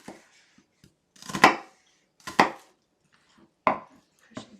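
Onion being chopped with a knife on a board, four sharp separate cuts spaced about a second apart, close and fairly loud with near silence between them.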